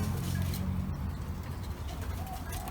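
A merbok, or zebra dove, gives soft cooing calls over a low background rumble, the sound faint and brief.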